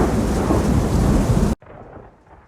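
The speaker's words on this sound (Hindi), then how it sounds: "उस रात बारिश हो रही थी, बाहर बिजली चमक रही थी" Loud rain roars with a deep rolling rumble of thunder, then cuts abruptly to a much quieter, faint patter of rain.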